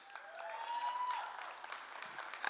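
Quiet, steady crowd applause at the teaser launch event for the film First Copy, heard from a distance. A faint tonal whistle-like sound rises briefly over the clapping.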